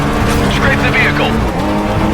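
Loud, close tire squeal as a car drifts in the Stuntman: Ignition driving game, a high screech over a strong engine roar, mixed with game voice and effects.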